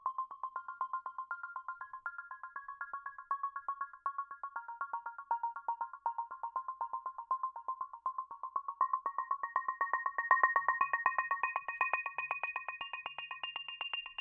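Synth line in Ableton Live under filter automation, sweeping from a muddy, dull tone to a brighter resonant one; a steady pulsing repeated pattern at low volume, with no voices.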